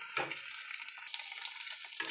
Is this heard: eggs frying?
yes